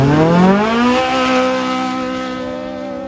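A UTV race car engine in a desert race revs hard, rising in pitch before settling into a loud, sustained high roar close by.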